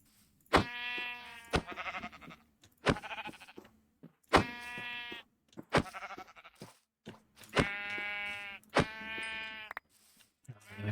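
Sheep in a blocky survival video game bleat in a series of short, clear, evenly spaced calls, each one sharp and close, with brief silences between them and no talking.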